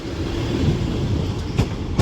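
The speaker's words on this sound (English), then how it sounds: "This Northern 150 departs Manchester Piccadilly now" A Northern class 150 diesel unit pulling out of Manchester Piccadilly station, a steady low rumble and hiss throughout with a couple of sharp metallic clicks near the end.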